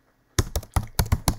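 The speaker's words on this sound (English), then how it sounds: "You could just start typing." Typing on a computer keyboard, six distinct close key presses in a quick, slightly uneven rhythm, crisp and fairly loud with silence between strokes.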